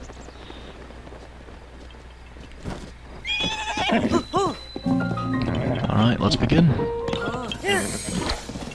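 Horses whinny and neigh in the Breath of the Wild video game, several loud calls arriving one after another near Hyrule Castle, with hoof clip-clops and someone talking over them.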